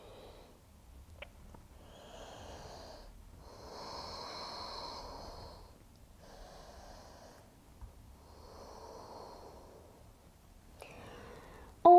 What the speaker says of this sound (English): Focusing on deep in breaths and out.